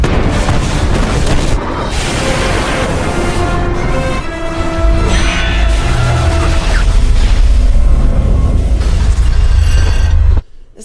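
Loud, continuous barrage of artillery fire and explosions on a beach in X-Men: First Class, with booming blasts and mechanical clatter filling the scene before it cuts off abruptly.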